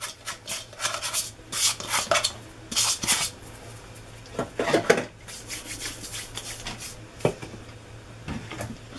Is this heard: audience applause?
no